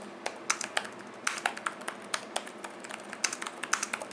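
Keys clatter on an Asus Zenbook Pro 14 Duo laptop keyboard in quick, irregular bursts of light taps, close and fairly quiet with short pauses between clusters, and no voices.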